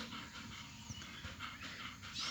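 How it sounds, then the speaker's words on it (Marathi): A pet dog pants outdoors on an open ground in the morning, quick rhythmic breaths close to the microphone, steady through the short stretch with no talking. "ही आमची डॉगी आहे"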